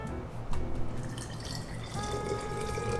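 Water poured for making matcha, a steady splashing stream that swells partway through and continues to the end, close and fairly loud.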